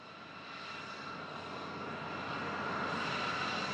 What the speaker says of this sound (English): Out on the runway, it's time to welcome an airshow favorite, an aircraft that plays a vital role for the Royal Bahraini and other air forces across the region.